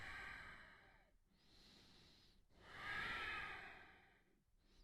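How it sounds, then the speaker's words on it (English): Slow, exaggerated breaths during a Warrior 1 yoga pose, with long airy inhales and exhales in a steady rhythm, close and soft, about three full breath cycles with brief pauses between. "I'm obviously exaggerating my breathing as a reminder so for you to breathe on your own."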